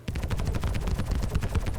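A CF447 Rhino laser repeater on a ship in Star Citizen fires a fast, steady stream of sharp pulsed shots, loud and close, running throughout with no talk.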